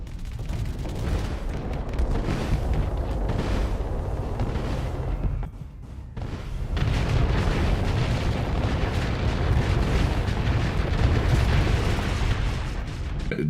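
Rockets bursting in the space combat game Starsector, a dense, continuous roar of heavy booms and blasts that briefly dips quieter midway before resuming at full intensity, with no talking.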